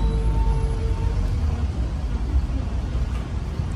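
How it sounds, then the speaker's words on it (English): Big diesel bus passing on a Paris street, a steady broad low rumble of engine and traffic filling the whole moment at close range with no talk over it. "It's the big bus."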